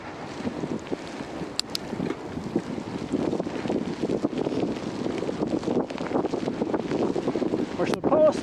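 Strong gusting wind roars during a blizzard, a continuous broadband rush with fluctuating intensity and buffeting against the microphone throughout.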